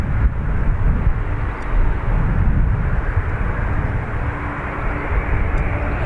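A Ryanair airliner departs Dublin Airport for Copenhagen, its engines producing a loud, steady, broadband roar that holds for several seconds with no talk over it.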